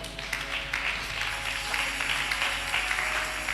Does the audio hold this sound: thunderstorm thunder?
no